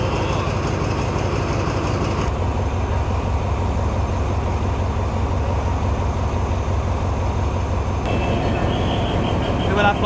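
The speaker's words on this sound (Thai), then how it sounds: "4230รถจักรใช้งานแขวงหาดใหญ่เลยนะครับนี่แต่ในครั้งนี้มาทำขบวน85นะครับ" Alsthom diesel locomotive 4230 of the State Railway of Thailand hauling express train 85 at a station crossing, its steady heavy engine rumble continuous and close throughout, with a brief shift in tone near the end.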